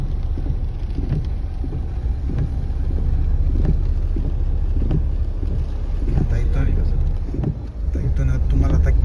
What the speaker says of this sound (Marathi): कसली झाडं लावली, वारा बघा कसला. नारळींची सगळी पानं उलटी झाली.